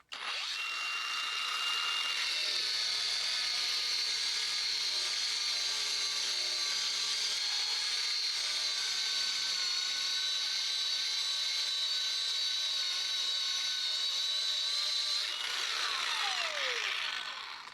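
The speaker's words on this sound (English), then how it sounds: "if I wanted to strip the paint, I could use the stripping drum." Hercules 20V brushless cordless surface conditioning tool spinning a stripping drum against painted metal, with a steady loud high whine that runs for about fifteen seconds before winding down.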